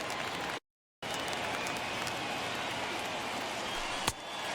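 A large stadium crowd of over 37,000 rises and cheers at a baseball game in MLB The Show 21, a broad steady roar with a short break and one sharp clack near the end.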